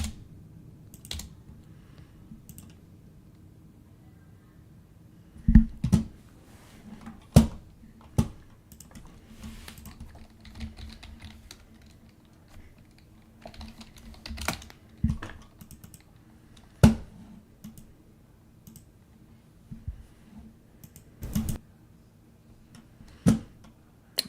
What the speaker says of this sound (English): Y'all really hear my mouse clicks